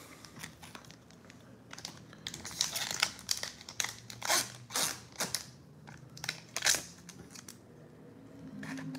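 Old Pokémon trading card packs are torn open by hand, with brittle foil wrappers crinkling and crackling close up in uneven bursts and no talking.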